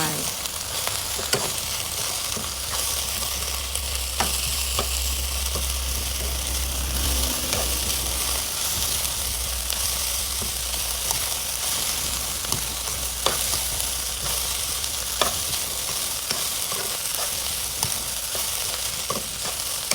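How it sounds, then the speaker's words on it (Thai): Steady sizzling and crackling of kale being stir-fried with salted fish in a hot pan, with occasional clinks of a utensil stirring, continuous and close. "ผัดผัดคลุกเคล้าให้เข้ากัน แล้วเราก็จะใส่คะน้าลงไป"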